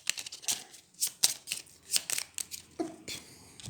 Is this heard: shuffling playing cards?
yes